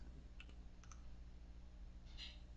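A few faint plastic clicks from a remote control's buttons, scattered and quiet, against a steady low background hum.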